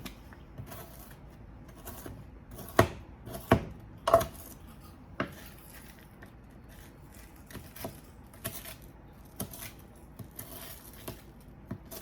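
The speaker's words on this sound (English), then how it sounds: "take one of the Chokito bars and we're just going to just cut it up." Knife cutting a Nestle Chokito chocolate bar into small pieces on a board, producing a handful of sharp, irregular chopping taps over a quiet background.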